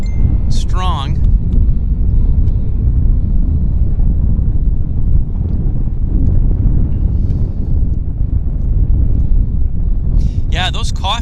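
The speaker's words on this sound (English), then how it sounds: "The wind is quite" Strong wind blows across a microphone at Vancouver Airport while planes are watched, a steady loud low-frequency rumble filling the whole clip, with brief higher tonal chirps near the start and end.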